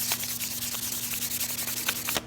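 An aluminum tail spring being hand-sanded with 400 grit sandpaper, a run of quick rhythmic scratchy strokes, close and fairly quiet, over a low steady hum.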